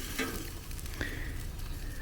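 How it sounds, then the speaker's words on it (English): Thick country-style pork ribs sizzle on a hot grill, a continuous close frying hiss with a few brief sharper crackles and scrapes. "You hear it sizzling?"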